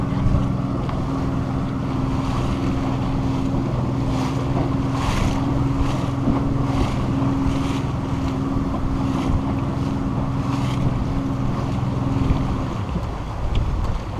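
A motorboat engine drones steadily for the whole stretch, with a low hum under wind and splashing water, then eases down near the end as the boat stops to anchor.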